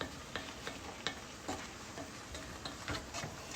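A spoon stirs a spicy Cajun seafood stew of the cioppino kind in a pot over medium-high heat, with soft scraping strokes and light clinks over a faint bubbling simmer, quiet and close.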